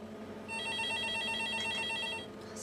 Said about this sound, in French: Ça doit être ton coup de fil